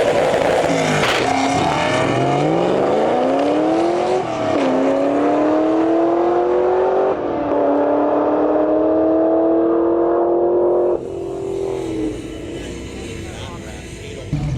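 A race car warming up its tires sends out loud, sustained engine revs that climb and drop in long sweeps, ending as the noise falls to a lower, steadier level.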